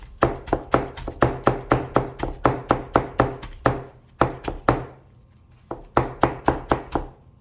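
Rapid, steady knife chops on a cutting board while cutting cabbage and other vegetables, a long even run of sharp taps, a brief pause, then another quick burst.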